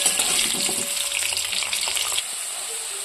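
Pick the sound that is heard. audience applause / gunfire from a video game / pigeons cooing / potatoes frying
potatoes frying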